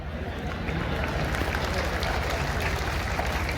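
An audience at the fourth convocation ceremony of Chhatrasal University claps in a dense, continuous round of applause, steady and fairly loud from start to finish.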